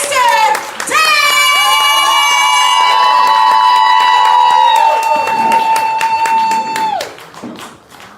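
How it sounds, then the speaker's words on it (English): A poetry slam audience claps and cheers for a poet: a loud, close, sustained whoop rings over scattered clapping, then fades. "So, audience members, start clapping, start clapping, start clapping, start clapping."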